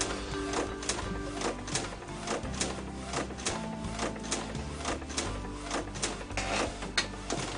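A new t-shirt printer runs steadily, with a busy mechanical whir and regular clicking strokes repeating close by. It runs continuously, with no one talking.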